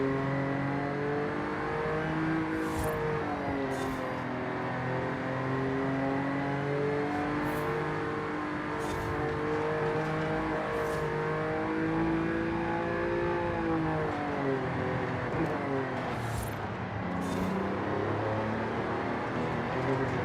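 An Audi RS4 five-cylinder engine in Forza Horizon 5 revs and pulls through the gears with a rising and falling growl and repeated shifts. The sound holds steady and loud for the whole stretch, with no talking.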